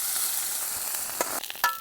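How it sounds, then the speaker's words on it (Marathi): Homemade heel cream sizzles and crackles in a hot iron kadhai, a steady close frying hiss with a few sharper pops and stirring scrapes near the end, no voices. "आणि आपण ही जी क्रीम बनवलेली आहे ना ती आपल्याला कढईमध्ये टाकायची"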